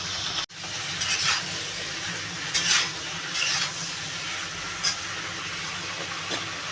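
Bottle gourd and prawns sizzle steadily in a hot pan, with intermittent scraping and stirring sounds breaking through the continuous frying hiss.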